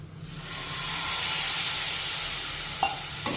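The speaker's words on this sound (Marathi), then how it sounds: "हा मसाला मला कोरडा वाटतोय त्यामुळे यामध्ये मी थोडंसं पाणी ॲड करते" A little water splashes into drying masala in a hot kadhai, raising a loud steaming hiss and sizzle that swells and then holds steady, with a couple of faint utensil taps near the end.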